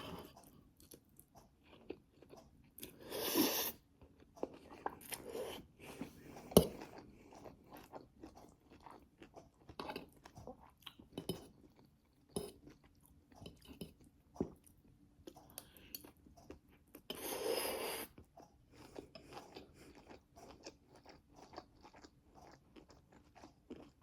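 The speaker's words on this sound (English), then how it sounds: "I'm gonna sit here silently eating and you can watch." Yakisoba noodles being eaten, with soft intermittent crunching and chewing bites scattered through a quiet stretch, a few louder bursts standing out.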